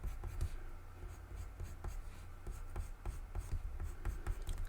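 A pencil is drawn back and forth across paper to blend shading on a drawing of black and white puppy fur, giving close, soft, rhythmic scratching strokes in a steady repeating pattern.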